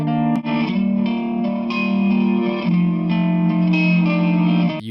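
An electric guitar loop plays with heavy reverb and effects in FL Studio, sustained chords ringing out steadily with a washy tail, with no speech.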